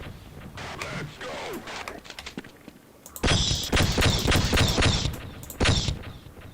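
Rapid bursts of video game gunfire, fusillade-like volleys that start quieter and then grow loud and dense after a brief lull, with a voice talking faintly underneath.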